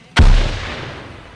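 A single loud explosive blast with a sharp onset, followed by a long rumbling decay that fades out over about a second.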